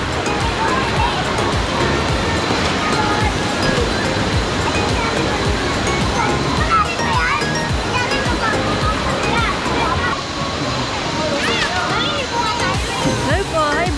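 Tanawan Falls in Dingalan, Aurora pours in a loud, steady outdoor rush of falling water, broad and continuous throughout.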